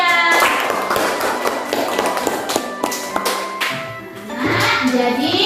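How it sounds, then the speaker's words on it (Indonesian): Classroom clapping for a student: a burst of sharp, uneven claps from a group of children, loud and close. It thins into scattered taps, and voices and a brief rustle come through toward the end. "kali tepuk tangan untuk Kesia."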